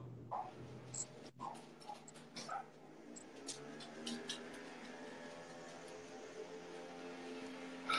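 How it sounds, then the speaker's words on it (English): Dogs give scattered yips and whimpering barks, faint and somewhat distant, over a steady low mechanical drone like a blower running nearby. "I'm really sorry about all these dogs and craziness."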